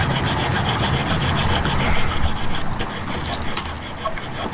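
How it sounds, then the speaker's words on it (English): A hacksaw blade cuts out a boat's cutlass bearing in slow, rasping strokes. The scraping is close and rough, with faint background noise and no clear talk. "I'm just gonna slowly cut this out with a hacksaw."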